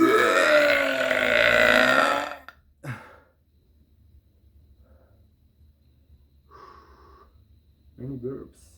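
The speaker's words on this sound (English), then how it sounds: "Many burps." A long, loud, deep burp rolls out up close, followed after a pause by a few shorter burps and breathy sounds.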